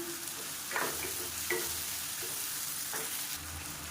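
Tomatoes with salt and turmeric fry in a pan, giving a soft, steady sizzle broken by three brief scraping stirs.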